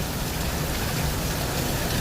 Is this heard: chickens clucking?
no